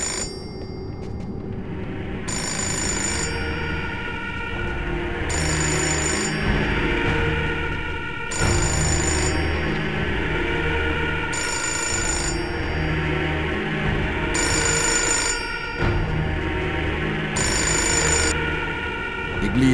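Telephone ringing in the video game Fahrenheit: Indigo Prophecy, six evenly spaced bright ring bursts over a steady low droning background, clear and fairly loud.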